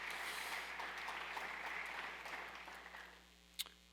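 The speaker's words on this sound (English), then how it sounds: "We're going to pause for another round of applause." Audience applause at a county address, a broad sustained patter of clapping that gradually thins out toward the end, with a single sharp clap near the close.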